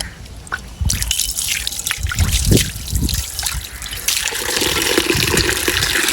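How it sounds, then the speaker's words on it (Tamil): Water is poured over karal fish being washed in a home kitchen, with splashing and trickling that starts after a moment and then runs on steadily, close and fairly loud, as the fish are handled. "தண்ணியை விடுங்கோ."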